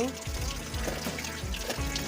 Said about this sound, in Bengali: পানিতে কাঁঠালটা ভিজিয়ে রাখছি, এখন ভালো করে ধুয়ে নিব।